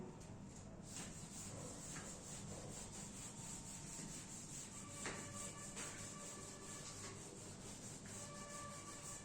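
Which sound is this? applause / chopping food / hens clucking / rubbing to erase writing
rubbing to erase writing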